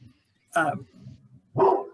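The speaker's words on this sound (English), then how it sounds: "And the dog's about ready to get put in timeout." A dog barks twice in a room during a political meeting, short sharp yips about a second apart, fairly close and mixed with faint background voices.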